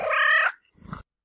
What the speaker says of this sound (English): sometimes meowing can be merged with purring as well